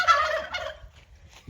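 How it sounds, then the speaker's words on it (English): Male turkeys gobbling close by on a small farm that also keeps sheep, with a loud rattling gobble at the start, a second burst soon after, then fainter calls and a short low thump at the end. "We have 4 male turkeys."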